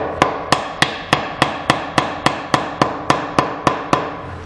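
A wooden mallet drives a wooden dowel into a clamp rack with about fourteen sharp, evenly spaced knocks, loud and close, each with a short woody decay and no voices.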